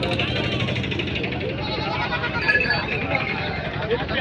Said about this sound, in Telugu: మేకలు బాగున్నాయి, చాలా పెద్ద మేకలు.